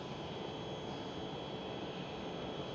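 A KLM Boeing 737 jet passes at Amsterdam Schiphol, its engines a faint, steady, distant rushing drone that neither swells nor fades, with no talking.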